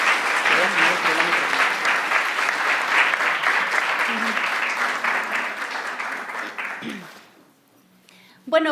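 An audience applauds a speaker at a Christian talk, a dense sustained clapping that gradually thins and fades out near the end, followed by brief quiet and a voice starting up.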